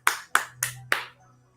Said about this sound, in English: I'm going to clap that one right there.